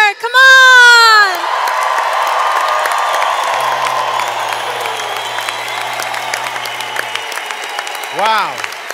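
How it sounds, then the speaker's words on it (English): A crowd at a youth congress closing session breaks into cheering and whoops, then settles into sustained applause that carries steadily through to the end, with a brief loud shout near the start and another near the finish. "Let's have another big round of applause for the best youth congress ever."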